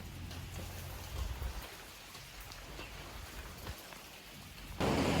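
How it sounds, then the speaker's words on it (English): Heavy rain pours steadily on a surface during a motorbike trip in extreme weather, a dense continuous hiss with a few low rumbles, growing louder and closer near the end. "it's an hour and a bit drive on the bikes in the rain"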